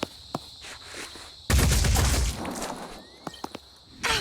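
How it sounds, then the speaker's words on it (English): Rifle fire from Phoenix Point comes as a sudden loud burst of rapid shots after quiet ticking, fading into scattered sharp impacts and a final brief volley. "2 volleys of rifle fire might do this"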